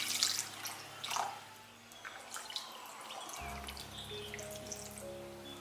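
Liquid trickling and dripping into a bowl of water where pork intestines soak, splashes near and faint, followed by a steady low hum.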